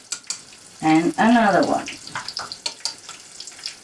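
Vegan rice paper wraps with mushroom filling drop one after another into hot oil for deep-frying, setting off a loud, bubbling sizzle that then settles into a steady crackle while a voice talks over it.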